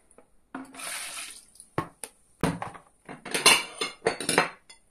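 Ceramic plates clink and clatter as they are stacked as a weight on homemade cheese, several sharp knocks in uneven succession with a faint trickle of water between them.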